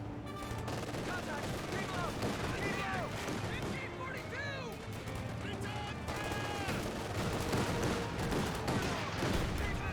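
Gunfire from the Company of Heroes 2 video game, with repeated rifle and machine-gun bursts over continuous battle noise and explosions, loud throughout the whole stretch, while a commentator talks over the action.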